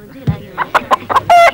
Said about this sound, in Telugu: కోళ్ళు ఇక్కడ పెట్టావేంటి?